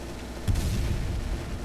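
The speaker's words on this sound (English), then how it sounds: "Blow up the bridge" A bridge is blown up in Space Engineers: a sudden loud boom about halfway in, followed by a dense, rolling low rumble that holds steady to the end.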